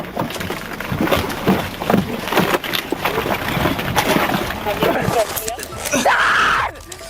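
A woman being arrested by police shouts and screams as she struggles, loud and close, her cries overlapping with officers' voices, scuffling and a final high shriek.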